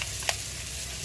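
Onion, garlic and bacon sizzle softly in a pan, with one brief clink of stirring in this short, quiet moment.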